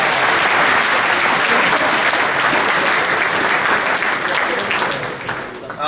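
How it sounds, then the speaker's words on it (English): A big round of applause from the crowd at a touchdown club banquet, loud, continuous clapping sustained throughout before tapering briefly at the close. "Let's give those guys both a big round of applause."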